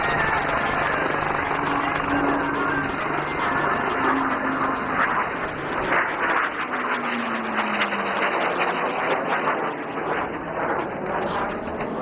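A fighter jet at the Aero India 2025 air show roars steadily at a distance, its broad engine rumble continuous for the whole stretch with a faint shifting whine, no talk over it.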